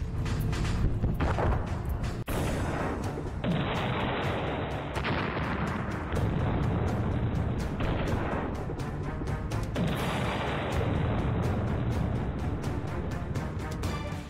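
Artillery cannons firing in a war news montage, a dense, loud barrage of booming shots and blasts running continuously, with sharp bursts overlapping heavy rumbling throughout.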